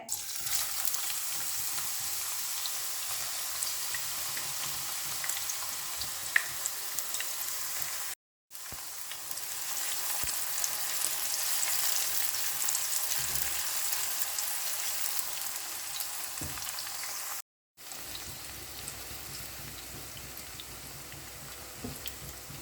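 Steady, close sizzle of a large onion frying in a generous amount of hot oil over a medium flame for a mock chicken sambal, broad and continuous with two brief cuts in the sound.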